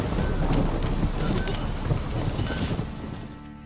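Steady heavy rain in The Witcher 3 video game pours continuously with a low rumble underneath, dense and close throughout, fading slightly at the end.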